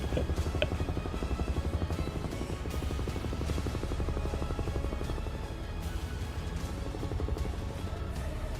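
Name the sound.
UH-1 helicopter hovering in MSFS 2024 video game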